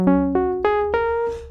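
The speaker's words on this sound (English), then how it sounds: "the sound we're gonna be using today on the Prophet sounds like this" A simple patch on a Prophet synthesizer plays four rising notes in an even rhythm, each bright attack fading smoothly, alone and close.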